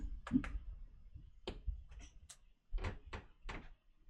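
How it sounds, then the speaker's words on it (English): Squeaky floorboards in a home creak under footsteps, a series of short, sharp creaks and knocks spread irregularly through the clip, fairly close and with no talking. "I have very squeaky floorboards."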